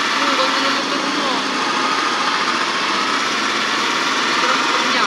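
A motorcycle engine in GTA San Andreas drones continuously and loudly at a high, buzzing pitch throughout, with excited talk mixed over it.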